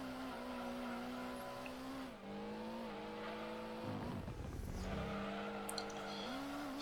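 Honda Civic tires sliding through a corner on Trial Mountain in a racing video game, a steady engine drone with shifting harmonic tones and a brief rough scrubbing swell of tire noise midway, with no talking.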